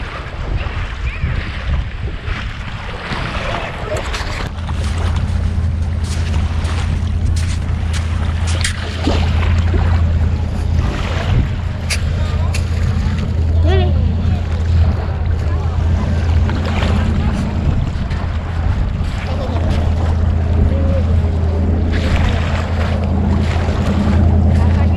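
A boat cruising at about 35 off Haulover near Miami on the open sea, with a steady loud engine drone and rushing water and wind noise throughout, close and continuous.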